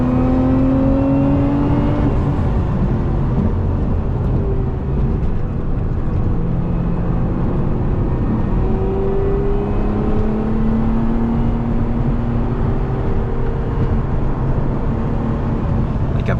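A 2025 Lotus Emira V6 sports car driven hard on a track, its engine droning loud and close from inside with rising and falling revs through gear changes, no voices.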